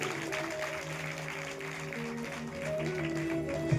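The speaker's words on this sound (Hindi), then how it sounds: "एक बार जोरदार तालियां सभी सहयोगियों के लिए" An audience at a Shri Shiv Mahapuran religious discourse in Agra gives steady, sustained applause for the supporters, a dense even clapping that keeps going for several seconds and rises slightly toward the end.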